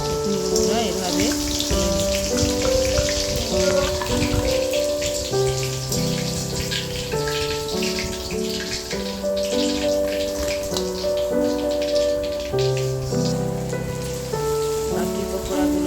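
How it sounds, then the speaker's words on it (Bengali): Chicken pakoras deep-frying in hot oil, a continuous rain-like sizzle and crackle that runs the whole time beneath steady background music. "বাকি পকোড়াগুলো এভাবে ভেজে নিচ্ছি"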